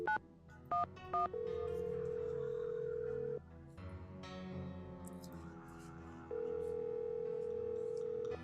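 Telephone dialing in the Nancy Drew video game: a quick run of keypad tones, then long steady ringback tones separated by a pause, fairly quiet and clean.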